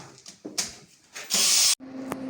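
A cordless screwdriver drives screws while a 3.5 kW hybrid inverter with automatic transfer switch is mounted in an apartment, using angle brackets; scattered clicks and knocks lead into one short, loud whirring burst near the microphone.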